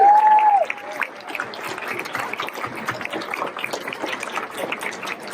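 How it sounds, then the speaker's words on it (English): An evening audience at an honors event applauds three honorees, a sustained patter of clapping from a crowd that follows a brief tone at the start. "How about another round of applause for all three of the honorees this evening?"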